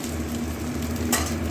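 Food fries in a pan with a faint, steady sizzle and a brief brighter burst near the end.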